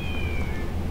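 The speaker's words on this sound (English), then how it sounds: "Now there's cats. Oh, lots of cats." Cats meowing in the video game Twilight Princess, a short close meow sliding downward in pitch over a low background hum.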